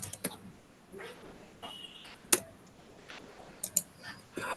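Scattered clicks of typing on a computer keyboard, a few sharp isolated keystrokes with pauses between them, fairly close and quiet over low room noise.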